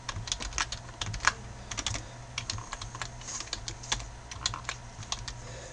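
Rapid, irregular keystrokes clatter on a computer keyboard, a close and fairly quiet stream of clicks with brief pauses and no talking.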